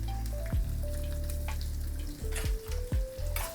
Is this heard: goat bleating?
no